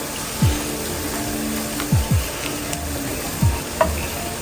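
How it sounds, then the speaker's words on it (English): Curry saltfish and tin mackerel rundown stirred in a pot: a steady low sizzle with a few scraping spoon strokes at irregular intervals, close and alone without talk. "Stir this up. Mix this up."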